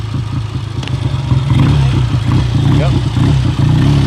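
A 1970 BSA Royal Star 500 motorcycle ridden two-up, its steady mid-pitched engine drone running continuously with light rhythmic pulsing, close and loud, while a voice speaks briefly over it.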